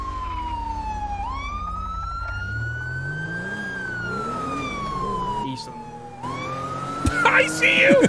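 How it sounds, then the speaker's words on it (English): A police siren wails past with rising and falling sweeps, loud and close over steady engine and road rumble, then a brief burst of clatter at the end. "I hear sirens?"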